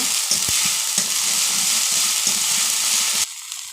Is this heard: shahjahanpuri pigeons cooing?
no